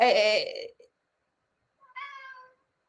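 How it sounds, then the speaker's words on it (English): A pet cat by a window meows twice, a long loud cry followed after a silent pause by a shorter, softer one. "Excuse me for the meowing in the background"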